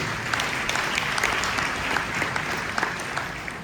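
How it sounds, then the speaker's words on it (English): A keynote audience at a generative AI conference applauds the speaker, a dense, continuous burst of many hands clapping at an even level throughout. "Round of applause for Sebastian, please."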